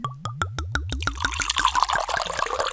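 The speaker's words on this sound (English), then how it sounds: "Time for the pour." Wine pours from a bottle into a glass. It starts as a quick run of rhythmic glugs that rise in pitch, then settles into a continuous close splashing stream.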